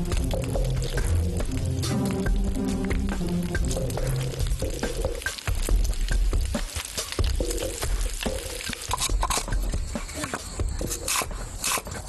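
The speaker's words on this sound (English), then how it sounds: "coat them in batter, and then sauté until golden yellow" Batter-coated lotus root slices stuffed with ground pork sauté in a pan, a continuous dense sizzle and crackle with occasional scraping and stirring noises, close and steady throughout with no voices.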